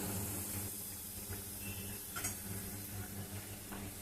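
A rice-flour batter fries in oil mixed with ghee, giving a quiet, steady sizzle with a few faint utensil clicks scattered through it.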